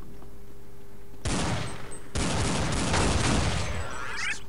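Gunfire from the game Counter-Strike 1.6, apparently a shotgun, arrives as two dense, loud bursts of rapid overlapping shots, one lasting about a second and a second running to the end, with no talk.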